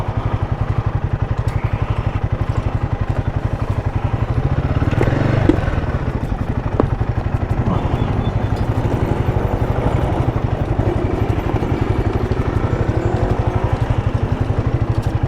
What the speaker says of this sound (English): Boys are doing very well on their Agbikes to get over this